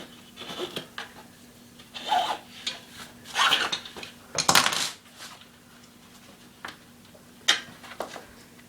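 Tire levers scrape and clink against a unicycle rim while prying the tire bead off, a run of separate metallic taps and rasps, close and intermittent with quiet gaps between.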